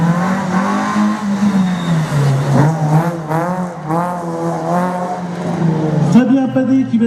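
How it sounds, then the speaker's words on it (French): A Renault Clio rally car at a Saint-Lô slalom event accelerating hard off the start line, its engine climbing through several rising revs under a commentator's voice. "Fabien Padé qui vient de s'élancer au volant de sa Clio"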